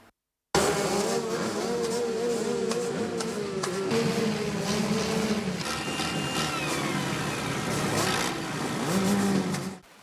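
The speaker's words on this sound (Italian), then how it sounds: "I motori che rombano a tutta" Motorbike and scooter engines roar at full throttle outside a church in Poianella during a funeral, a loud, continuous, buzzing drone with wavering pitch that lasts nearly the whole stretch and swells near the end.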